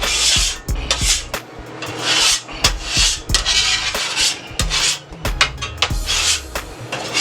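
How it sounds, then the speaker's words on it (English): Rough metal scraping as food residue is scraped off a hot Steelmadeusa grill, repeated rasping strokes in an uneven rhythm, loud and close with no talking. "I'm just gonna scrape the excess waste that's on the grill"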